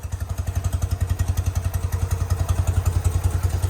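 An old motorcycle engine, run after sitting over 20 years with carburetors still unadjusted, idles steadily, its rapid, even thumping pulses loud and close, with a faint mechanical clatter on top.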